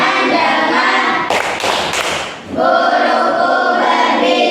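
A class of students doing a rhythmic focus clap at the start of a lesson, a short burst of sharp, loud claps up close in a classroom, with voices chanting around it.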